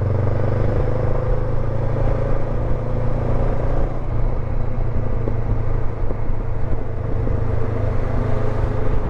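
A Honda NX500 motorcycle engine rumbles steadily and loudly while rolling around corners in the wrong gear, a low continuous drone mixed with wind and road noise and no clear revving.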